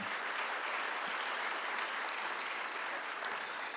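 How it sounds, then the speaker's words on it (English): An audience at a high school senior awards ceremony claps in sustained, even applause filling the hall, with no voices rising above it. "Give them a round of applause, if you will."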